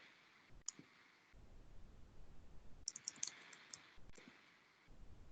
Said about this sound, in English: I'm typing it again.